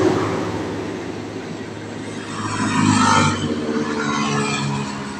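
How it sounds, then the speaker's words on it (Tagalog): Heavy traffic rumbles past on a highway, a large vehicle swelling loudly as it passes, then a continuous roar of engines and road noise. "Tapos mga ganyan truck na malalaki yan."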